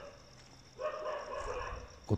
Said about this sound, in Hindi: कुत्तों की आवाज़